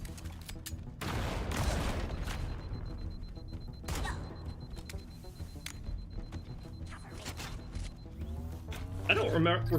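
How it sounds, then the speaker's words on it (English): Grenades set off a chain reaction of explosions in a Halo campaign level, a loud cluster of booms and crackling blasts spread over several seconds, with a voice talking over them. "that's the grenade chain reactions"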